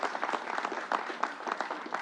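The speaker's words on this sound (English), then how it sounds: "Let's give Northwell a round of applause" An audience at a mass vaccination site at SUNY Old Westbury on Long Island applauds in a steady, dense patter of many hands, moderately loud and continuous, with no distinct voices over it.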